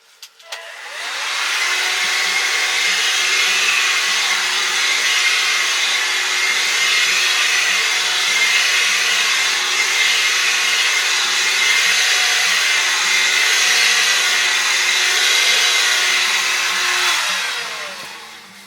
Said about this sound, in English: I'm out here, totally remote, wilderness, and I'm vacuuming.